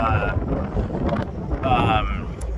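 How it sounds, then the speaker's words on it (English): Strong south wind buffets a microphone on a fishing boat near Astoria, with a shirt flapping loudly in steady gusty rumble throughout. "I'm sure you guys can see my shirt flapping and hear it on the audio right now"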